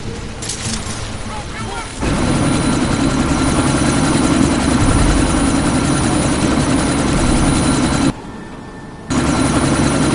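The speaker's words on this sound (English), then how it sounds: "That chopper's about to take off!" A helicopter lifting off in the game Deus Ex: Mankind Divided, a loud, dense rotor and engine roar that swells and holds, dipping briefly before surging back, with voices speaking over it.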